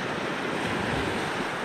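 Black Sea surf on a beach at Lazarevskoye, Sochi, in November: a steady, dense wash of waves with some wind noise, continuous and close, with no voices.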